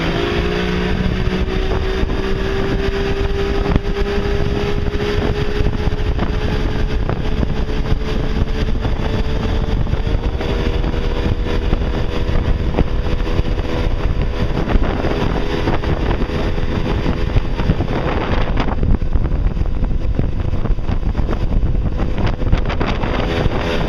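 A Johnson/Evinrude OMC outboard motor runs during lower unit testing, a loud, steady drone mixed with heavy wind buffeting on the microphone, the pitch shifting slightly near the end.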